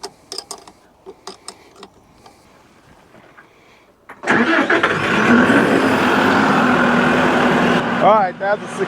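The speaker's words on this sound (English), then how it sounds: "Tractor starts right up like it's supposed to." LS tractor after a battery replacement: a few clicks and ticks, then the engine catches and settles into a loud, steady idle close by, with a person speaking near the end.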